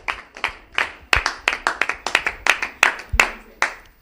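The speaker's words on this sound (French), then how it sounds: "Applaudissez pour le couple Kazadi." Hand clapping for a couple at a Valentine's Day special broadcast, about a dozen sharp claps in an uneven rhythm, close and fairly loud, with no voices.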